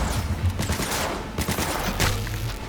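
Rapid automatic gunfire from the video game Cyberpunk 2077, dense bursts of shots crackling loudly and continuously across the whole moment with no talk over it.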